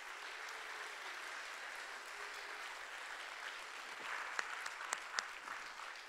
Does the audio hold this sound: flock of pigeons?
no